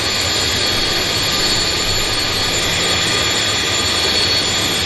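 The engines of an Avro jet at Vancouver airport roar loud and steady, a continuous broadband whine and rumble that holds throughout with no voices.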